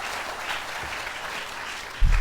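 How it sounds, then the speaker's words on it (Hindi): Audience applause at a spiritual discourse, a dense, steady wash of clapping from a seated crowd that swells slightly and ends in a louder thump. "तालियां तो आपने बजा दी"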